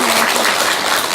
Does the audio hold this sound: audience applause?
yes